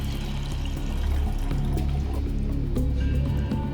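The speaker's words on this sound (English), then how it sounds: "Next, we'll pour water into this beaker." Water poured into a laboratory beaker for a water displacement test makes a steady, close liquid gurgle and splash lasting a few seconds, with no talk.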